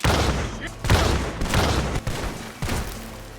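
Gunfire in the video game Red Dead Redemption 2, several heavy booming shots spaced about half a second to a second apart, loud and close over a low rumbling game soundscape.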